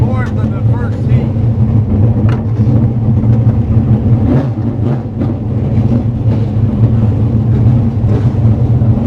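Race cars run at Brewerton Speedway, a loud, continuous engine roar with fluctuating revs heard under a person talking.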